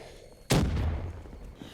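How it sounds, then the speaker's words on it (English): A thrown grenade goes off in a video game on the Leviathan map: one sharp, heavy blast that rolls away into a fading rumble. "what we need to do in this room is throw the grenades at the statues"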